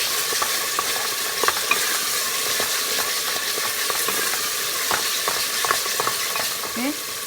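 Tomato paste fries in a pot for a meat curry, a loud, constant hissing sizzle with light scraping stirs scattered throughout, close and without speech.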